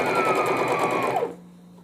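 A sewing machine stitches piping onto a newborn-size baby vest in a fast, steady whir that stops abruptly near the end, with no talk.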